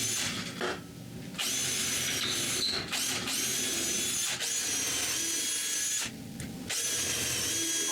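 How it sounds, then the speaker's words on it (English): A power drill bores holes into wooden boards in several loud bursts of whirring, each pausing briefly before the bit bites again, heard up close with no voices. "To prevent the screws from splitting the ends of the boards, I drill holes."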